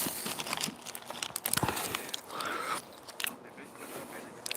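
Crunchy salted tortilla chips are bitten and chewed up close, giving sharp, irregular crackling crunches with crinkling bursts between quieter pauses.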